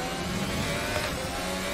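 An F1 car engine in an open-wheel racing simulator at the Hungaroring drones steadily at mid pitch as the car heads into a corner apex, a brief continuous engine tone with no voices.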